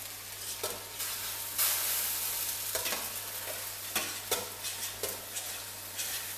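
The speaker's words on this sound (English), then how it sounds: "just going to mix it around" Apple pie filling stirred in a bowl with a utensil, a quiet series of wet scraping and sloshing strokes repeating about once a second, close up and alone.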